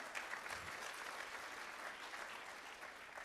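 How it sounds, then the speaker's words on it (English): An audience applauds Steve Wozniak, the Apple co-founder, as he is welcomed onstage at a tech event, producing steady, dense clapping from a sizable crowd that holds throughout without letting up. "Round of applause for Steve."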